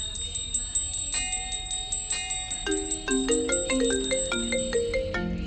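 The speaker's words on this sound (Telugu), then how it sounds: "You got a call." A melodic electronic ringtone plays a repeating pattern of bright tones, loud and close, with a faint low background hum beneath it.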